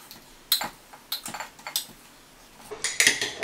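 Homemade laundry soap ingredients being stirred in a jar, heard as a close series of scraping clinks and taps against the container, irregular and moderately loud, with no talk.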